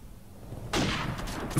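Gunfire breaks out suddenly partway in, a dense burst of shots in a match where teammates fire on their own side, loud and continuous to the end.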